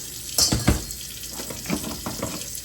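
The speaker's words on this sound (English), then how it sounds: "I'm just washing out all the guts." Running tap water rinses the guts out of a cleaned Dungeness crab at a kitchen sink, splashing and gurgling unevenly with a few louder bursts near the start.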